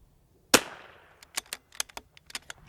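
A single sharp precision rimfire rifle shot fired at a target range, loud and close, followed by a scatter of faint clicks and small knocks.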